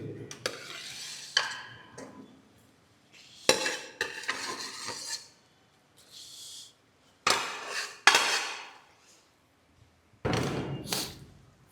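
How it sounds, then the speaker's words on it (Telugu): Spoon stirring salt into tamarind in a pot for gongura dal, with bursts of scraping and clinking separated by quiet pauses, close and moderately loud, with little talk. "సాల్ట్ వేసి కలుపుకుందాం."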